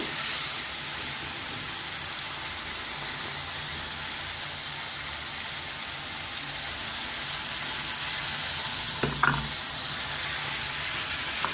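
Masala frying in a pan for brinjal bhurta gives a steady, soft hissing sizzle that continues alone, with a brief clatter near the end.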